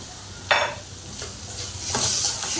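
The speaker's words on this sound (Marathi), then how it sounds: "चांगला नरम होईपर्यंत परतून घेऊया" Finely chopped tomato sautéing in a pan, with soft sizzling and a few scraping stirs close by, the strokes growing busier toward the end.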